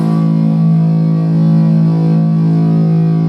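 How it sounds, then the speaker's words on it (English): A Fender Stratocaster electric guitar rings out with distortion, one thick sustained chord held steadily and loudly for the whole stretch with no talking. "What do you say we try it with a little bit of distortion?"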